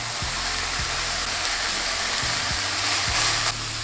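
Smash burger patties topped with cheese sizzle steadily on a hot griddle, a dense even hiss with a few soft low knocks scattered throughout, no voices.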